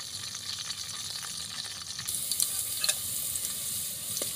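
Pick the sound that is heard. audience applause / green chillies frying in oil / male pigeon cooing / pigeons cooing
green chillies frying in oil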